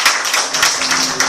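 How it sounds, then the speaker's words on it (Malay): Close, dense audience applause for Sifu Mazlan at a business talk, many hands clapping steadily and loudly throughout the short burst with no talking. "Tepukan paling gemuruh untuk Sifu Mazlan kita"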